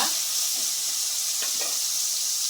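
A tomato dropped into oil with fried onions gives a dense, constant hissing sizzle, close and even, with a couple of soft stirring scrapes over it.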